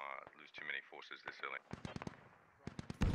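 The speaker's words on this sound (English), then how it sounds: "That's an HMG firing somewhere else" Heavy machine gun firing in the distance in the Squad video game, a series of sharp bangs in an uneven rhythm, following a stretch of radio-style talk.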